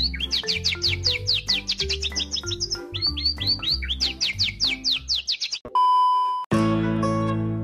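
A songbird training recording of the kind played to caged birds, with rapid repeated chirps and trills in quick phrases and some lower accompanying notes, followed by a brief steady electronic tone and a burst of noise at the end.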